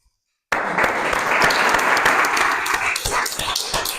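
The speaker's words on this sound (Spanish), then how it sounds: "Un aplauso para ellos" An audience at a talk on the Western Sahara applauds, starting abruptly after a moment of silence and continuing as dense, steady clapping close by, with a voice faintly underneath.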